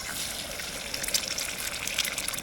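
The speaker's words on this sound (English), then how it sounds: "I'm pouring some coffee here" Hot coffee, heated with a Jetboil while camping at Grayton Beach State Park, poured in a steady gushing trickle, close and fairly quiet, with a few brighter splashes.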